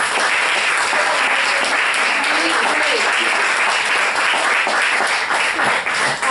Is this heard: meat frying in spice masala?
no